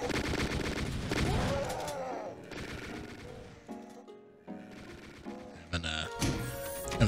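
Rapid gunfire and enemy attack sounds from chaingunners and revenants burst in a Doom map, dense volleys at first, then choppier shots, growls and metallic effects layered loudly throughout the game scene.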